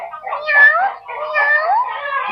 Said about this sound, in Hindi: म्याऊं म्याऊं करते हुए बिल्ली कूदकर उसके कान से बाहर निकली